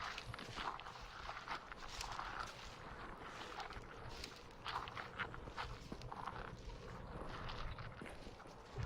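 Muffled, scuffing footstep sound effect from the visual novel game Chaos;Head Noah, irregular crunchy steps blended with a rough, windy rumble throughout.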